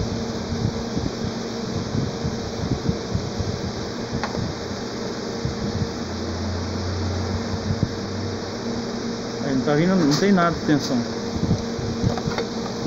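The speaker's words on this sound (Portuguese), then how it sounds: "Tá ligando só o ventilador." Cooling fan of a Consul microwave oven under repair runs as a steady mechanical whir with electrical hum, while someone talks over it and a brief warbling tone rises near the end.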